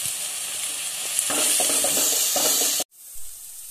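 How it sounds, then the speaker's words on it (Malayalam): Chopped onions and curry leaves fry in oil in a pan for Kerala-style chicken thoran, giving a loud, bright continuous sizzle with rhythmic stirring scrapes partway through, then an abrupt cut to a quieter, duller hiss. "നമുക്കതിലോട്ട് നേരത്തെ എടുത്തു വെച്ച ഉള്ളിയും ഇതൊക്കെ ആഡ് ചെയ്യാം"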